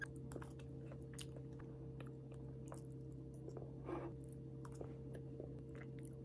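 Someone eats sweet potato crumble cake with a crisp crumble topping: soft, moist chewing and a few light crunchy bites close to the mic over a steady low hum, with no talking.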